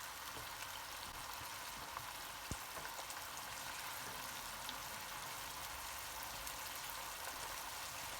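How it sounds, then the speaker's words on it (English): Broth poured into a pan of Greek souzoukakia meatballs comes to a boil, giving a steady, quiet hiss and bubbling with faint scattered pops and one sharp click, continuous and low throughout with no voices. "Now I'll add the broth. We'll let that boil up."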